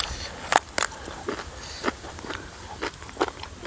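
Crunchy fried fish being bitten and chewed, with a series of sharp, irregular crunches close up over quiet outdoor background.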